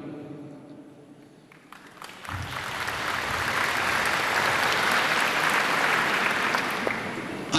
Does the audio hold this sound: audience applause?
yes